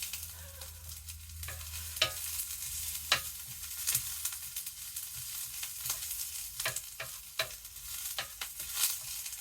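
Peppers and onions being stirred in a hot pan for low-carb cheesesteak quesadillas, a soft steady sizzle broken by repeated sharp scrapes and clicks of the utensil against the pan, close and without speech.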